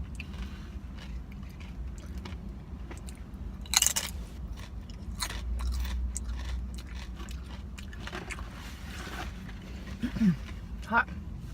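Chips and salsa being eaten with shrimp tacos, giving close, soft crunchy bites and chewing spread through the clip, with a couple of sharper crunch spikes over a steady low background hum.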